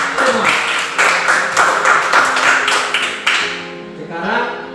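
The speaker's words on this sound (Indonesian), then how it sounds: "Sekali lagi tepuk tangan untuk semua." A classroom full of students claps together in steady, dense applause that runs for several seconds before tapering off, while a teacher's voice speaks over the end.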